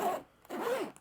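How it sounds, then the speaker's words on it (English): Two quick, smooth zipper pulls on an Evergoods x Carryology Griffin CPL24 bag, soft and close, separated by a short pause. "really, really smooth zipper action"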